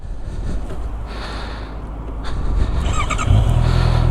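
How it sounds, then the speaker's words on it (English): A Honda CB650R 4-cylinder 650cc mid-size motorcycle engine running close by, a smooth steady hum that swells louder and deeper toward the end as revs rise. "It's a very, very nice 4-cylinder 650cc mid-size motorcycle."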